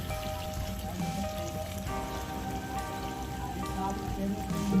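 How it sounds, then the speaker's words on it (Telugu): Water poured into chicken curry in a hot pan makes a steady rushing, splashing hiss that builds slightly toward the end, alone with no talk. "ఇప్పుడు వాటర్ యాడ్ చేసుకోవాలి"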